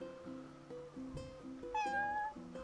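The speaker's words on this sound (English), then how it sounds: "What is this, a cat?" A cat in the video game Final Fantasy XV gives a couple of rising meows over light background game music, the second one louder and longer.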